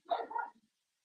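A pet dog at home barks once, a short, fairly close yap that stops abruptly, with silence afterward.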